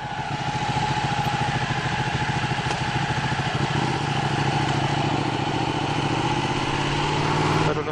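A 2016 Ducati 1299 Panigale S engine drones loudly and steadily while the bike is ridden, a continuous close rumble with a rough, pulsing texture throughout.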